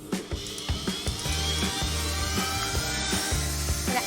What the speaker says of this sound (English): I'm now going to whisk up some eggs and sugar. And then you just want to whisk it until it's light and fluffy.